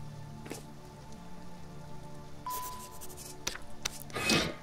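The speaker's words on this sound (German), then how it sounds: "Es regnet einfach wirklich schon wieder." Rain falls steadily in the survival game Sheltered, a soft constant patter under low ambient drones, broken by a few short clicks and scraping bursts, the loudest near the end, with no voices.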